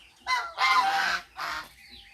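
Geese honk loudly and close by at feeding time in three bursts, a short call, then a longer harsh run of honks, then another after a pause.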